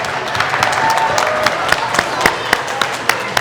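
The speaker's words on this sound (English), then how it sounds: "Give yourselves a round of applause." A crowd applauds with scattered, uneven clapping at moderate volume, individual claps popping out from a steady patter.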